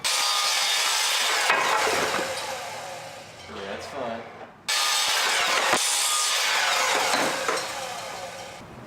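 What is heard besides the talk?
power saw cutting wooden dowel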